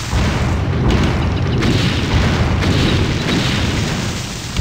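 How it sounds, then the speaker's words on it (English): Ship cannons firing a full broadside in the video game Anno 1602, a dense continuous barrage of loud overlapping booms rolling on for several seconds. "Fire a broadside! Full broadside!"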